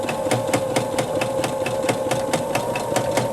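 A sewing machine running steadily through free motion stitching on a quilted Winter Moon pattern, with rapid regular needle clatter up close and a constant motor hum beneath.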